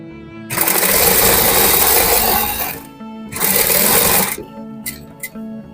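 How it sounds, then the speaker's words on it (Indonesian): A sewing machine stitches fabric for a scrunchie in two loud, steady bursts of fast mechanical whirring, separated by a short pause, followed by a few faint clicks. "Oke, kita jahit sampai muter."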